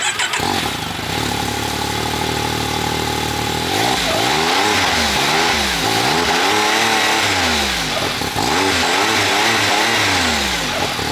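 A 2025 Can-Am Maverick X3 MAX XMR Turbo RR engine idling, then driving off across a parking lot, revving repeatedly with rising and falling turbo engine pitch, loud and close throughout.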